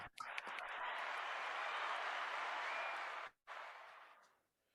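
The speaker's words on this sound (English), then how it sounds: "I think all of you deserve a round of applause." Audience applause at a live World Speech Day speaking event, a dense steady wash of many hands clapping that holds for about three seconds, breaks off abruptly, then resumes briefly and fades out.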